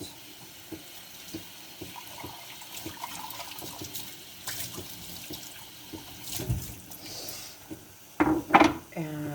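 Water runs steadily from a kitchen tap while something is rinsed out beneath it, with scattered knocks and clatters. A few short, louder vocal bursts come near the end.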